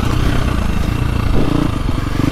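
2025 KTM 350XCF Factory Edition dirt bike engine lugs low and loud at close range, a throbbing four-stroke rumble with clattering, pulsing under load and barely rising in pitch.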